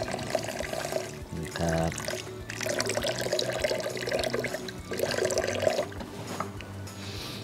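Boiled pickled bamboo shoots squeezed by hand in a kitchen, giving a steady wet splash and trickle of water running off, close and continuous, with a brief spoken word.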